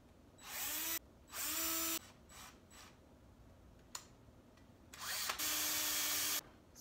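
A power drill whirs through wood in three bursts, each starting and stopping abruptly, with quiet pauses and a small click between.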